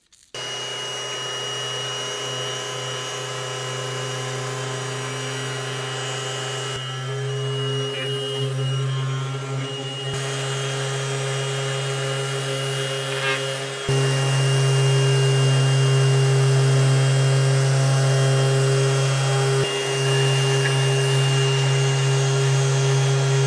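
A Worx 5-in-1 power sander sanding wood runs as a loud, continuous motor whine and buzz for the whole stretch, with small shifts in pitch and load as it presses against the surface.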